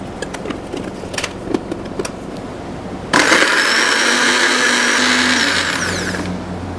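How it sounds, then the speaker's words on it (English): A kitchen blender starts abruptly and runs steadily, loud and whirring, as it purees shallot and garlic with water; a few quieter clinks and rustles come before the motor kicks in. "I will blend the shallot and garlic in the blender"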